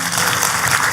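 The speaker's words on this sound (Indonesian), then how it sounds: "Boleh kita kasih tepuk tangan?" A church congregation applauds, loud, dense, sustained clapping from a large crowd filling the room without a break.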